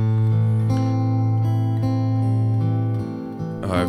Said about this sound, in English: I've just recorded a loop off my Martin